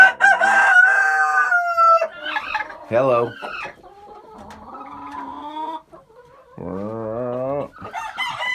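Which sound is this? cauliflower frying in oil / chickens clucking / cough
chickens clucking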